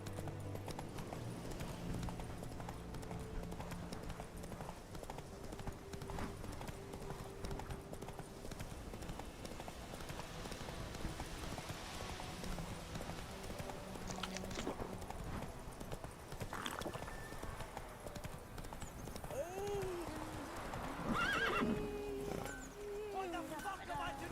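Roach the horse in Witcher 3 gallops with steady clip-clop hooves throughout, broken near the end by a short neigh, over game music and ambient noise, with a voice talking at moments.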